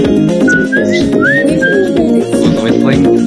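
A person whistles a short, lilting tune of rising and sliding notes, loud and close, over a busy layer of game music in a Roblox-style hide-and-seek match.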